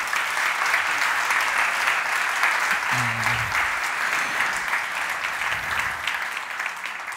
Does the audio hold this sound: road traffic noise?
no